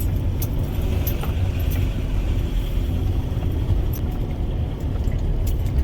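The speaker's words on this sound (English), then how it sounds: "I then made my way down following the directions of Thomas the host as to where he'd kept me a little space just for my camper van" VW campervan driving along a farm lane, heard from inside as a loud, steady engine and road rumble with faint rattles and jangles from the cabin, continuous throughout.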